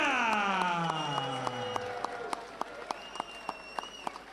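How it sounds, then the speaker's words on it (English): Crowd applause after a 2007 boxing bout between Johnny Two Gunz Walker and Bruce Glozier, rising at moderate volume under a fading sustained tone, with sharp individual claps standing out. "Big round of applause for Bruce coming all the way from New Zealand"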